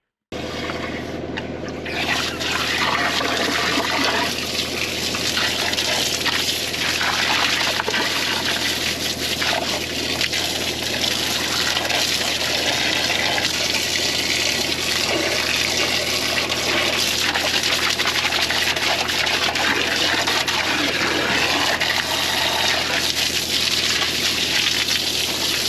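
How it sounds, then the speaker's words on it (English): Water running steadily through a sewer drain system during jetting work, a continuous gushing, trickling flow close by that holds at an even level throughout with no talk. "So let's get some more water running through this system."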